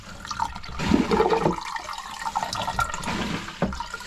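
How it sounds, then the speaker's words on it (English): Water gurgles and rushes into the hull of a steel sailboat during a plumbing repair, an uneven splashing flow close by, heard alone without talk. "There is water coming in."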